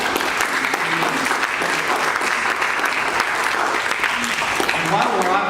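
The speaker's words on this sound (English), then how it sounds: "while we're offering a round of applause" Steady round of applause from the audience at a parish 50th anniversary celebration, dense, even clapping throughout with faint voices mixed in underneath.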